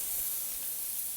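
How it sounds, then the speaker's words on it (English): Scallops sear in a very hot pan, giving a steady, soft, airy sizzle and hiss that continues without a break and with no talking. "And when they hit the pan, you can feel it. It's searing."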